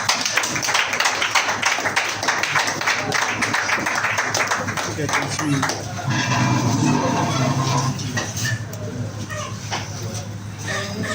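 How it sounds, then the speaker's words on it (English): Clapping crowd at a company training gathering applauding the managing director, rapid overlapping claps through the first half that thin out, with voices talking underneath. "Let's clap for our MD once again"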